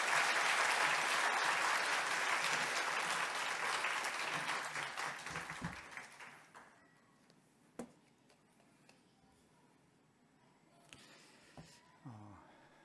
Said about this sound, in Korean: 목사님 감사하다고 박수로 모시겠습니다